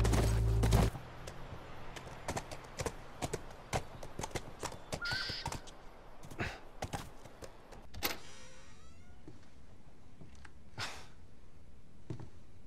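Horse hooves clip-clop near a ranch in the video game The Last of Us Remastered, an irregular run of sharp knocks, with a mechanical whir and a brief whinny-like sound partway through.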